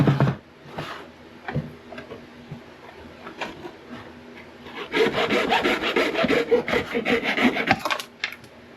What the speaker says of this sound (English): So we're just gonna take our handy dandy hacksaw.